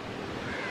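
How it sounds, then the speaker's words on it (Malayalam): Wind gusts around an old banyan tree outdoors, producing a steady, close, broadband rush with no pauses over a brief moment. "എന്തൊരു രസമുള്ള കാറ്റ് നോക്ക്"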